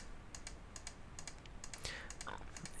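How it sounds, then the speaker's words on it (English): Computer clicking and keyboard tapping during photo selection work in Photoshop, a quick irregular series of faint, close clicks over low background hiss. "Alright, so more clicking here."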